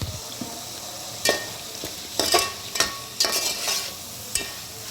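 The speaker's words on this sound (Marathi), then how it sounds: "आणि हे परत एकदा थोडं शिजवून घेऊया." Vegetables for a vegetable pulao cooking with salt in a pan, a soft steady sizzle broken by sharp scraping and clinking strokes of a spoon being stirred through.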